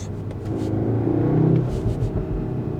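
A Cupra Formentor 300bhp engine gives a low, steady rumble with a throaty exhaust note, swelling slightly midway and holding a continuous deep drone throughout.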